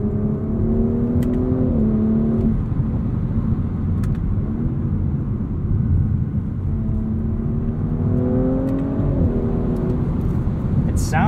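A 2021 Audi S4 engine pulls through the gears from inside the cabin, steady droning rumble rising in pitch, easing at a shift, then climbing again; road roar underneath throughout.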